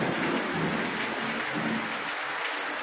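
Rain falls steadily in a dense, even hiss, with a faint low rumble underneath and no talking.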